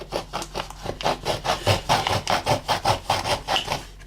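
A knife cuts through a homemade plastic bottle fish trap in steady, rhythmic strokes, a close rasping sawing sound repeating about twice per second with no talk.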